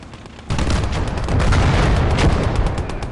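Dense gunfire and booming blasts erupt suddenly in the Close Combat war game, a loud, sustained barrage of overlapping shots and rumbles with no break.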